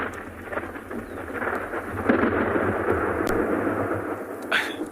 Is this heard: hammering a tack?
no